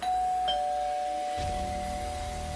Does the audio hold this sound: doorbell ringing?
yes